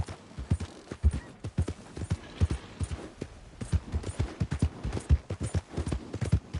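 Steady clip-clop of horse hooves in the video game Red Dead Redemption 2, a brisk rhythmic series of hoof strikes close by, with no talking.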